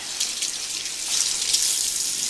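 Tap water runs steadily from a bathroom faucet while a makeup brush is wetted under the stream, a continuous hissing splash with slight fluctuations as the brush moves through it.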